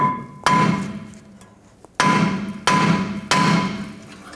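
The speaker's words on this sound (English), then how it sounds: "just take a hammer, give it a couple taps in that area right there" Four sharp metallic hammer taps on a rear brake rotor of a Ford F350 Super Duty, each ringing briefly, one alone then three in quicker succession after a pause.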